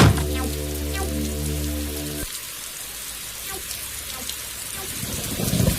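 Steady rain falls in an animated Tamil telling of the ant and the grasshopper, a dense continuous hiss without a break, with a low sustained tone beneath it for the first couple of seconds before it fades.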